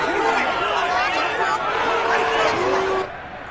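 A stadium crowd at a preseason football game between the Titans and Buccaneers rises in a loud, continuous roar and babble, easing off suddenly near the end.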